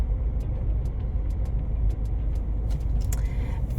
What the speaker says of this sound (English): that truck's really loud